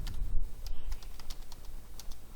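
Quick, light clicks of typing on a computer keyboard in an irregular rhythm, close up and moderately quiet, with no talking.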